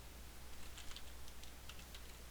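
Faint, quick keystrokes on a computer keyboard tap out short bursts of typing against a steady low hum, with no talk.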